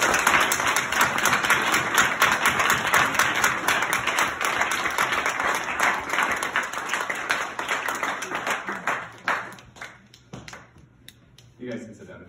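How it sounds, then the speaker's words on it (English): An audience at a graduation ceremony claps for the graduates in a dense, sustained round of applause that gradually thins to scattered claps and fades out. "I would like everyone to give these people a round of applause"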